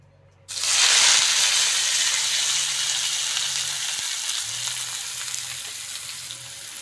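Tomatoes and onion drop into hot mustard oil in a wok and set off a sudden loud sizzle. It stays as a steady close hiss and fades slowly, with a faint low hum underneath.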